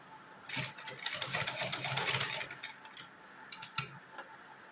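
A sewing machine stitches the pleats of a heavy Laddu Gopal dress, with a dense run of rapid mechanical chattering in the first half, then a few sparse ticks and short bursts. It is fairly close, with no talking.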